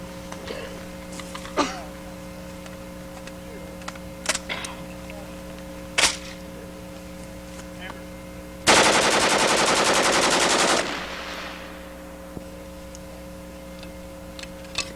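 An AR-style rifle fitted with a .22 conversion kit fires outdoors: several single sharp cracks spaced apart, then one sustained fully automatic burst lasting about two seconds, loud and close.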